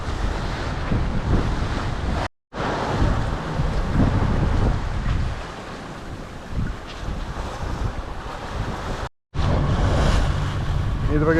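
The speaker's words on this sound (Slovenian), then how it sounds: "tukaj se valovi razbijajo tle na teh čereh" Ocean waves break on coral reefs at the entrance to an atoll in the Maldives, a loud continuous roar of surf mixed with heavy wind buffeting, heard from aboard a sailing boat, with two brief cuts to silence.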